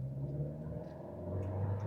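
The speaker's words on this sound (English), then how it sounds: "Now, you can hear that engine a little bit further up in the distance." An MG HS family SUV's engine accelerating from a standstill, heard from inside the cabin as a steady, moderately quiet rising rumble and whir that seems slightly distant, with no talking over it.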